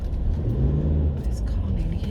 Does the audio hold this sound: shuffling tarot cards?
no